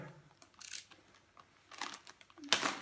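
Crinkling plastic rustles in short bursts close up, a small bag from a Tesla Model S power liftgate kit being handled and pulled open, with quiet pauses between the crackles.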